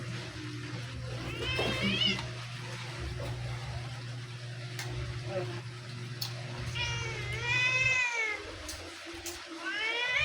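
Cats fighting, yowling and meowing loudly in rising and falling cries over a steady low hum, with someone talking in between.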